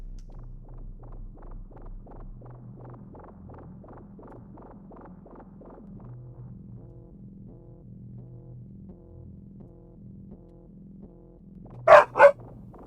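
Two quick, sharp dog barks ring out near the end, loud against a steady low throbbing hum that fills the rest of the clip.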